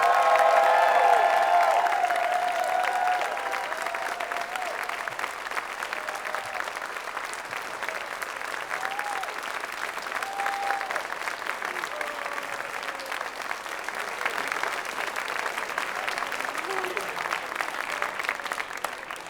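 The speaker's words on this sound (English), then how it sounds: "Let's have one more round of applause for all of our fantastic guests of honor." A convention crowd applauds its guests of honor at a closing ceremony, with sustained clapping and scattered cheers that start loud and then settle into a long, steady ovation; a voice is heard briefly near the start.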